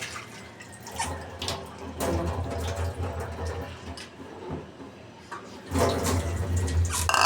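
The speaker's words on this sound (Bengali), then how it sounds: "একসঙ্গে করে সবগুলি মশলাকে ভালো করে ধুয়ে নেব" Whole spices, black peppercorns and bay leaves among them, are rinsed under running tap water for a chicken curry: an uneven splashing stream with louder bursts of water near the start and at the end.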